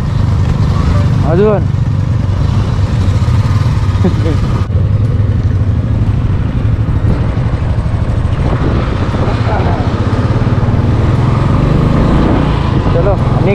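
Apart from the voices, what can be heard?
motorcycle engine revving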